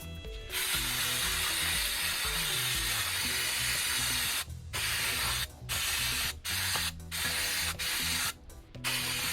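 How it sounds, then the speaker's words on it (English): Mass airflow sensor cleaner sprayed onto the engine of a 200k-mile Saab 9-5: loud, close hissing aerosol bursts, a long steady spray followed by several shorter spurts separated by brief gaps, with no talking. "I'm gonna go ahead and just spray some mass airflow sensor cleaner all over this thing"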